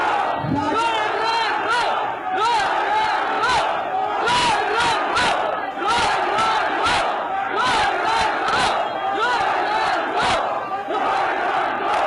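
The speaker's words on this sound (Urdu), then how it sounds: "تو یہ آپ ہی کے لوگ نعرے لگا رہے تھے" Large political crowd at a rally chanting slogans in loud rhythmic unison, with repeated bursts of shouting and cheering over a dense, continuous roar of voices.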